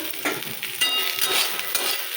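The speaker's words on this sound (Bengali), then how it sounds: "এটা চিচিঙে ভাজা করেছি" Sliced snake gourd fries in a pan, making a continuous loud sizzle with faint stirring scrapes and no voices.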